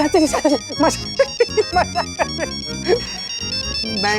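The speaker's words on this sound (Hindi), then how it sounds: "कौन तुझे इतना फोन कर रहा है? उठा ले फोन।" A mobile phone ringtone plays loud and near as a melodic tune of rising and falling notes that repeats, with a steady held tone toward the end and no talk over it.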